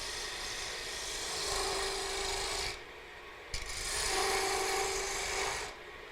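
A skew chisel cutting a spinning wood blank on a lathe, with two sustained rasping, shaving passes of a couple of seconds each separated by a brief pause and a small knock, close and even.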